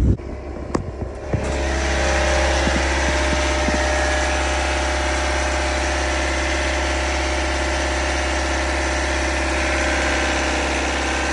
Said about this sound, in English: we've got to keep the revs up for this new engine